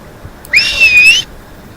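Lifeguard whistle blown once at a beach, a single loud shrill blast lasting under a second that starts with a quick upward slide, alone with no voices.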